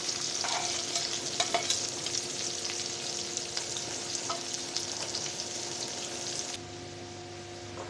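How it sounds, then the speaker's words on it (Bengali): Chopped onion frying in hot oil left over from fried silver carp, a steady loud sizzle with a few stirring scrapes, easing slightly toward the end; no talking. "এবার পেঁয়াজ কুচি দিয়ে দিলাম।"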